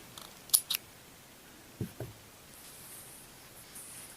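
Scissors trimming leftover yarn from a crocheted granny square: two quick crisp snips close up, then two softer cuts, with quiet room tone between.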